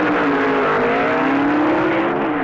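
A 1970s drag racing car roars at full throttle down the strip, a loud continuous engine howl with rising pitch, no talk over it.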